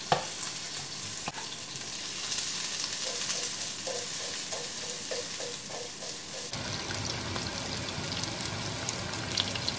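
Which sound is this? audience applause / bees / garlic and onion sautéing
garlic and onion sautéing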